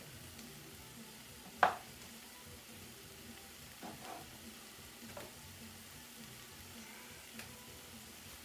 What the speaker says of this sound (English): my meat is smelling good, guys. Starting to sizzle real nice. You can hear it.